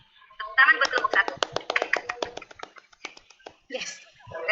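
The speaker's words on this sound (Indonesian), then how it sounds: "Tepuk tangan buat kelompok 1." Classroom applause for a student group, rapid sharp hand claps in a dense burst close by, tapering off, with children's voices breaking in near the end.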